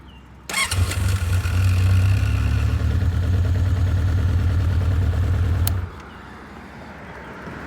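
A Honda CB900F motorcycle engine idles after a cold start, loud and steady with a deep low rumble for about five seconds before cutting to quieter background.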